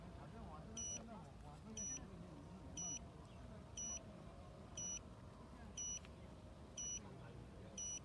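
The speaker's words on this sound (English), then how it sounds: "We can hear beep and then the boat is turned around" An RC bait boat, the Boatman Actor Pro, gives short, regular beeps about once a second during compass calibration. The beeps are faint and sit over a low background rumble.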